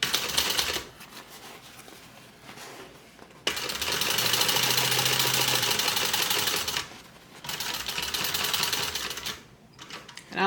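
Sewing machine stitching a second seam about an eighth of an inch from the edge of a bag, loud rapid running bursts separated by brief pauses.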